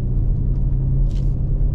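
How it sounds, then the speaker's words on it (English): A big Mercedes car idles with a steady, deep engine rumble. The sound is close and continuous, with no voices over it. "all I want to do is listen to this car because it sounds awesome"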